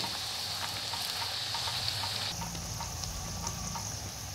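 Methi puris deep-frying in hot oil over a medium gas flame give a steady, close, even sizzle and bubbling, with the sound shifting slightly partway through as the frying goes on.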